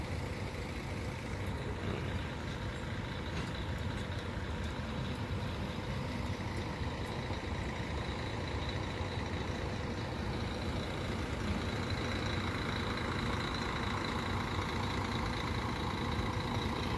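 Two ALS buses, numbers 350 and 360, idle at Arjosari bus terminal, a steady low engine rumble mixed with broad terminal noise throughout, no talking.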